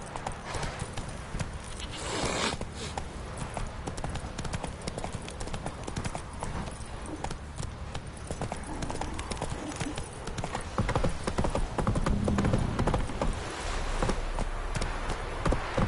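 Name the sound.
horse galloping, from The Witcher 3 video game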